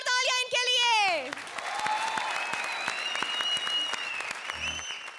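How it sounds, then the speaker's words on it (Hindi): Studio audience at a Comedy Circus finale bursts into loud, sustained applause right after a brief voice, with music tones ringing over the clapping to the end. "जोरदार तालियां इनके लिए।"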